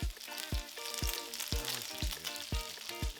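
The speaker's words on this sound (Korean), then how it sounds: "센 불로 겉에를 시어링 해주듯이 구워주세요." Salmon searing skin-side down in a hot pan over high heat gives a steady, close sizzle, with rhythmic thumping music underneath.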